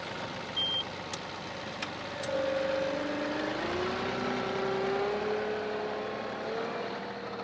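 A tractor engine runs steadily at close range, a continuous droning hum whose pitch rises and shifts as the revs change, with a few faint clicks at the start.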